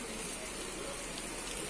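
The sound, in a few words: heavy rain falling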